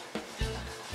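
A dog sneezes indoors, a couple of quick bursts, the second one louder and lower, with quiet room noise around them.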